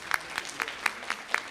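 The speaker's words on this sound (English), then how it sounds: "Let's give him another round of applause." A sparse round of applause from a youth summit audience: a handful of separate, evenly spaced claps, faint and somewhat distant, with no talking.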